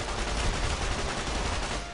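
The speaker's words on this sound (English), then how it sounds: "We have a little 9mm submachine gun." Rapid sustained automatic fire from a 9mm submachine gun resembling a compact grease gun in the video game Fallout: New Vegas, a dense, continuous rattle of shots lasting about two seconds.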